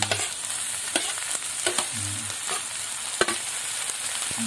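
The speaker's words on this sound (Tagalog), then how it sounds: "Katapos, ilalagay ko na itong ating karne." Pork meat for sisig sautéing in a hot pan with chili, giving a continuous bright sizzle broken by repeated stirring scrapes and clinks, fairly faint and steady with no talk.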